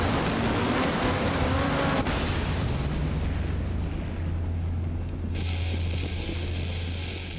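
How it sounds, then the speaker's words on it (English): A MotorStorm racing car smashes apart in a loud burst of crashing and booming debris, settling into a sustained roaring engine drone. "the crashes really do look spectacular"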